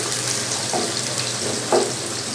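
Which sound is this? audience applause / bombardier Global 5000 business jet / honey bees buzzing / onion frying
onion frying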